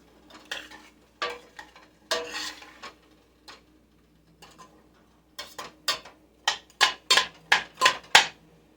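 Cajun holy trinity of onion, celery and bell pepper sautéing in a pot for red beans and rice, with a run of sharp stirring and scraping strokes that quicken toward the end, close and fairly quiet.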